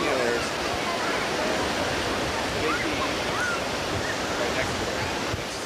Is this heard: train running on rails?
no